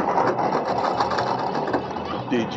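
A propeller aircraft engine drones with a steady, buzzing mechanical whir for the whole stretch, fairly loud and close, with voices talking over it.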